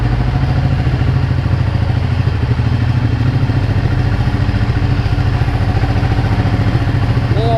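Ducati Panigale 1199S motorcycle with a dry clutch idling close by, a steady loud mechanical rumble with continuous dry-clutch clatter and no break throughout.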